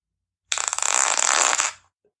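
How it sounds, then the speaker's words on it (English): One fart, a fast buzzy flutter lasting just over a second, close and fairly loud, then silence. "fart number 5"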